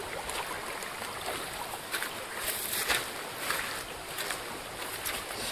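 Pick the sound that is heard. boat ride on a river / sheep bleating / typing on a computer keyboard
boat ride on a river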